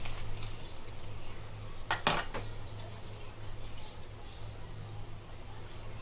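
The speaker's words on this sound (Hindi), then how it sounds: "अभी हिलाएंगे, मावा डालेंगे और हिलाएंगे" Stirring mawa in a pan over low gas for butter halwa, with a soft metallic spoon scraping and a sharp clatter of utensil against the pan near the middle, under a steady low kitchen hum.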